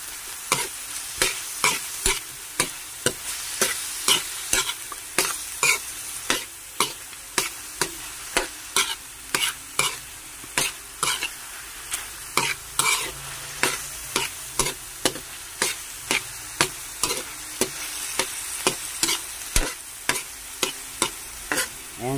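Chicken sautéing with salt in a pan for an opo and tokwa dish, rhythmic utensil scrapes and stirs repeating steadily over a continuous close sizzle, with no talking.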